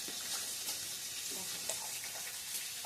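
Bitter gourd and potato fry in a pan with a soft, even sizzle and faint crackles, quiet and steady over about three seconds with no talking.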